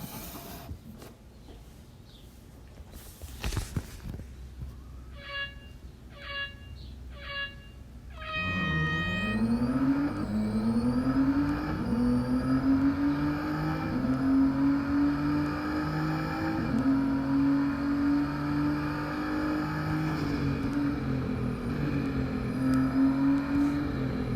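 A Nissan GT-R Nismo R35 racing in the Real Racing 3 mobile game: a few short menu beeps give way to a loud, continuous engine whine that rises and shifts as the car accelerates through gears.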